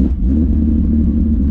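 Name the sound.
car being driven out of the garage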